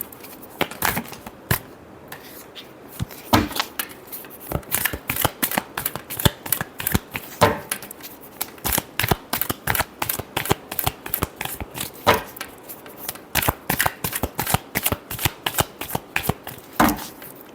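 Tarot cards are shuffled by hand up close, producing a long series of crisp riffling flicks and soft slaps in an irregular but steady rhythm, with no talking.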